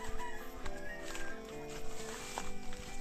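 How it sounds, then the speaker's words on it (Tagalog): Chickens cluck softly on a rural Philippine farm, their calls mixed into steady outdoor background noise with footsteps nearby. "Papastol tayo mga birds."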